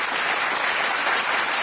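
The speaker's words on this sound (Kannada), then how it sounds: "ಚಪ್ಪಾಳೆ." A studio audience at a TV game show claps together, a brief burst of loud, dense, continuous applause with no voices.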